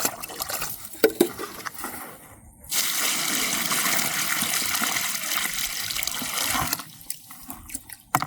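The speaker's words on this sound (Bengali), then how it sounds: "আমি বলি গর্তটাকে জল ভর্তি করে দিন বালতি ঢেলে দিন" Water gushes steadily from a bucket into a planting hole dug in dry soil, a continuous close pour of several seconds framed by faint drips and splashes before and after.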